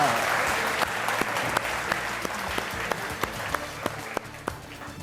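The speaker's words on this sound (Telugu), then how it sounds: "ఆయన కోసం చప్పట్లు." A studio audience applauds a judge on a courtroom-style TV talk show, with dense, steady clapping throughout and sharper individual claps standing out, fairly close and sustained.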